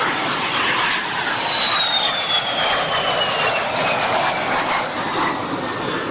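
A MiG-15bis and a de Havilland Vampire jet fly together at a summer air show at Duxford, a loud sustained roar with a slowly falling whine as they pass, no voices.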